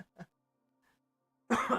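Two short throat-clearing coughs from someone who swallowed something down the wrong pipe, close and fairly quiet, followed by a pause and then a voice starting to speak.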